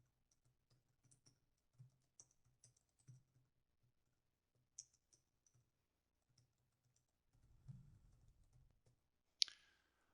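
Soft, close keystrokes on a computer keyboard tap out a message in an irregular patter in a quiet room, with a brief low rustle near the end and a sharp final click.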